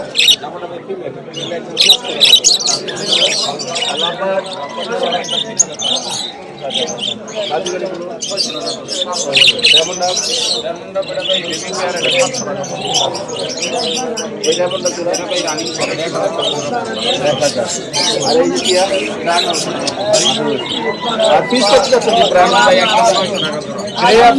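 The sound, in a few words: caged birds calling at a bird market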